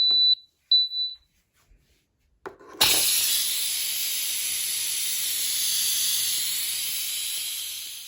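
Steam released from a pressure cooker after cooking homemade dog food, a couple of short beeps, then a sudden loud, steady hiss that goes on without talk.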